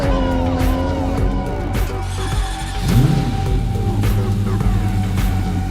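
Cyberpunk 2077 car sounds: tuned V6, inline-six and V10 engines roar and rev, with tire squeals from drifting and a car sweeping past mid-way, all dense and close.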